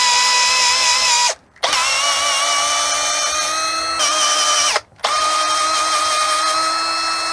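Cordless drill driving screws into skid plate nuts on a vehicle's lower control arm skid plates, a loud steady whine running in three long bursts separated by brief pauses.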